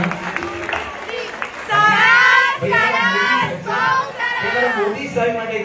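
Loud, dense applause and cheering from a concert audience fills an auditorium at a Jain devotional concert for Mahavir Janma Kalyanak, swelling in waves with shouts rising over the clapping.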